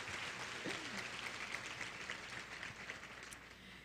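Steady applause from a luncheon audience at a women's fund event, soft and somewhat distant, a continuous wash of many hands clapping without a break for the whole stretch.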